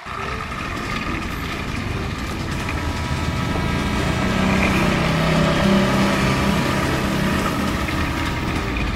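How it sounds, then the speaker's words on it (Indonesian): An electric train speeds past with a steady mechanical hum that builds in loudness, holds, then eases slightly, and no voices are heard. "Wih, sangat cepat sekali keretanya ya. Wow, ini kereta listrik"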